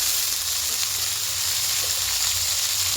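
Sliced bitter gourd and potato sizzling in hot oil, a steady, loud, close hiss and crackle that carries on without a break.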